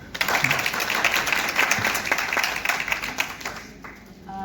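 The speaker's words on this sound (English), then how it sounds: "Please clap for her." Audience members clap for a woman at a panel event on energy conservation, a moderately dense patter of hands that builds quickly, holds, then thins out near the end, heard at middling distance.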